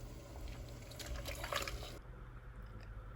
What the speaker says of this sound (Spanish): los voy a enjuagar con agua bien fría para que no se sigan cociendo